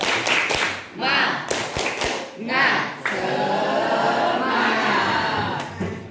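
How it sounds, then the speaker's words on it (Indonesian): A classroom of students performs a rhythmic 'tepuk semangat' spirit clap, sharp patterned claps in bursts followed by a sustained burst of clapping and excited voices, close and loud. "Seperti biasa kita tepuk Semangat. Ya, tepuk semangat."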